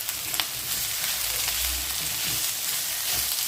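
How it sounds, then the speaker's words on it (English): Pork and chickpea stew with dried chilli sizzles steadily in a hot pan, a bright continuous crackle with soft stirring scrapes underneath and no talking. "Turn the fire a bit higher, and we're going to give that a stir"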